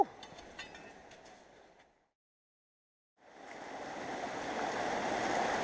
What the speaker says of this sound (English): I'm back here today at the Secret River. It's running a touch high.